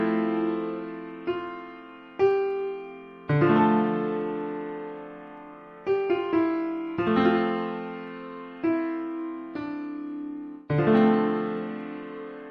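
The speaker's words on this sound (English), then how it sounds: "you can hear that sort of sound of the phaser between the gaps" Piano chords ring out and decay one after another, a swirling phaser sweep coloring the sustained tones in the gaps between strikes. No voices.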